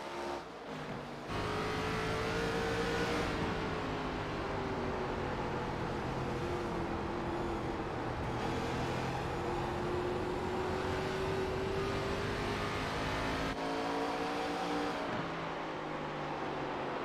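ARCA Series stock cars race at Lucas Oil Raceway, engines roaring steadily and loudly as a pack passes. Pitch rises and falls with Doppler sweeps across continuous, overlapping motor drone.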